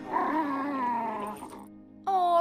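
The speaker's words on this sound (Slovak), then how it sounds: "ale veľmi čudne šteká" A cartoon dog with a sore throat makes a strange, strained bark drawn out into a long growling whine with wavering pitch, followed by a brief pause and then a sharp bright yelp at the end.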